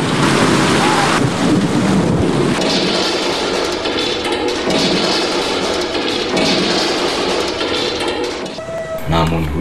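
Heavy January rain pours in a dense, steady roar, with deep thunder rumbles swelling and fading beneath it for the whole stretch.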